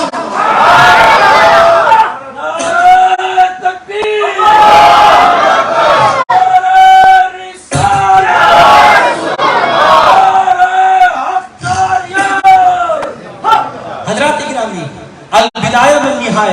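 Crowd at a religious gathering chants Subhan Allah in loud, repeated unison responses, surging voices alternating with short pauses and a leading call.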